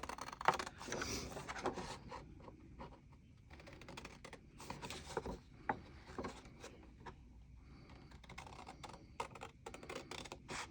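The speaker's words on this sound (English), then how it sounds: "So I'm just going to cut these down by hand and just do one for now so you all can see how this will look." Paper envelopes are cut by hand with quick, faint snips and scratchy rustles in an irregular rhythm, close but quiet, with no voices.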